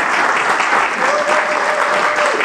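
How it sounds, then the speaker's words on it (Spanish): A hall audience applauds a master filmmaker at a national film gathering, loud continuous clapping with a faint sustained voice tone drifting beneath the middle of it. "para el cual solicito un aplauso porque es uno de los maestros"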